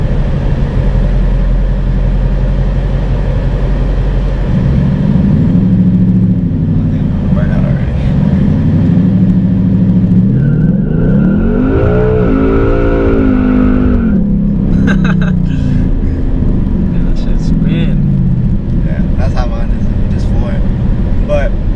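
A 2018 Ford Mustang GT with the 10-speed automatic held at full throttle, its loud engine climbing through rising revs with quick upshifts between gears, up close and continuous.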